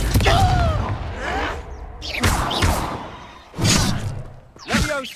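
Confringo, a fire spell in Hogwarts Legacy, goes off in a few sharp bursts with thuds and whooshes in a game battle, mixed with shouted voices and combat noise.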